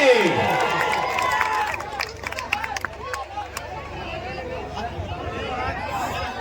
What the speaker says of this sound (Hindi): एक बार जोरदार तालियां होनी चाहिए हमारे हीरो नंबर 1 गोविंदा जी के लिए